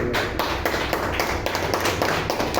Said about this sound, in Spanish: Damos fuertes aplausos a Jesús.